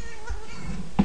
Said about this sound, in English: And that's my cat, Cairo.